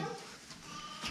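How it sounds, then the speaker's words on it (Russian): A young goat bleats briefly at close range, a short wavering call with faint outdoor background. "Там новый козлик."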